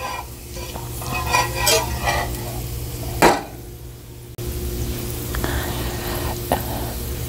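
Garlic frying in a pan with a steady sizzle while a utensil stirs and scrapes, scattered metallic knocks and clinks, one sharper tap partway through, all close with no talking.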